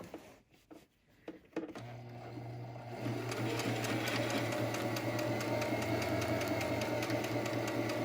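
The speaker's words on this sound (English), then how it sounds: "we just kind of top stitch along that edge" A sewing machine topstitching along the edge of a fabric face mask, starting after a few soft handling noises and then running as a close, steady, fast mechanical whir with rapid needle ticks.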